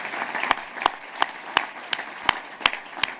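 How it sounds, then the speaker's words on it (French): Audience applause at a provincial New Year's greetings ceremony, a steady patter of many hands with a few sharper individual claps standing out at a regular pace, fairly close and moderately loud. "vous faites bien de les applaudir."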